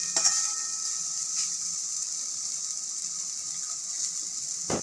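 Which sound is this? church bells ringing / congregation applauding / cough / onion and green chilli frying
onion and green chilli frying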